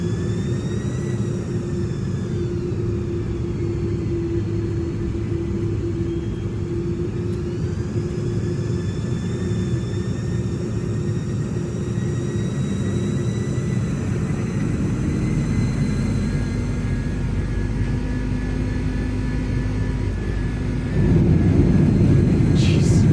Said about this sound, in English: Why are our engines spooling back down?